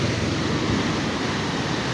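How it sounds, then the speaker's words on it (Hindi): Water rushing through a canal in Lal Suhanra National Park, Bahawalpur, Punjab, Pakistan; a loud, steady broadband wash with no pauses and no other sounds over it. "यहाँ से पानी जा रहा है।"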